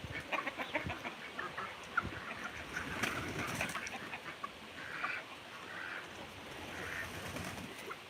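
Chickens and ducks rush out of their coop in a morning stampede, a busy, scattered chorus of clucking and squawking with scuffling feet and wing flaps, fairly faint and unaccompanied by speech.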